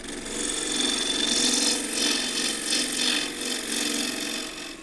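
A 3/8 deep fluted bowl gouge cuts wood on a lathe, refining the foot of a bowl with a continuous close scraping hiss whose strength swells and eases with each pass, and no talking.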